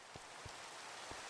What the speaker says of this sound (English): I don't love rain in Minecraft